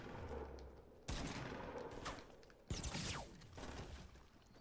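Bursts of Fortnite gunfire in two loud volleys of rapid shots with broadband cracks, sharp onsets around a second and nearly three seconds in, ringing tails and mechanical clatter between them.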